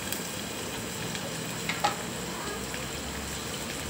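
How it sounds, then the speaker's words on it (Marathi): Onion fries in hot oil in a pan, giving a soft, continuous sizzle with a couple of small stirring knocks, quiet and without speech. "त्यात कांदा परतवून घ्यावा"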